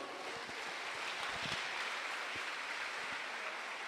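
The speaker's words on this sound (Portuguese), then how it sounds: "Dê mais um aplauso ao Senhor." A church congregation applauding during a worship service: dense, steady clapping from many hands that holds at an even level throughout.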